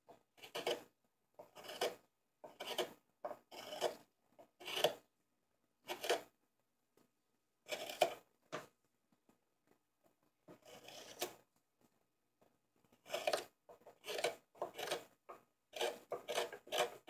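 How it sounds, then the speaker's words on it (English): Rasping scrapes of a hand tool hollowing the bowl of a cherry wood coffee scoop, repeated short strokes in bursts with brief pauses, close and fairly quiet. "by very carefully scraping here, hollowing out this bowl ever so carefully."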